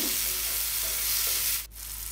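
Garlic frying with whole spices in a hot pan, a loud, dense, continuous sizzle up close that drops off abruptly near the end.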